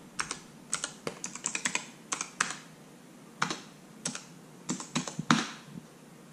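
Rapid bursts of keystrokes on a computer keyboard while a name and backslash path are entered to connect to a Synology DS120j NAS, clicking in short irregular clusters, close and clear with no talking.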